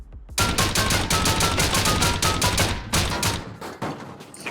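Rapid, loud bursts of explosive ammo gunfire from Rust crack out in quick close succession, a brief pause breaking the run before more shots follow, with no voices.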